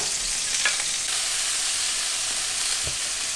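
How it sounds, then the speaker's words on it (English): Steady, loud frying sizzle of peppers and onions in hot oil over high heat, a continuous crackling hiss with a few small pops and stirring clinks. "Hashtag sizzle."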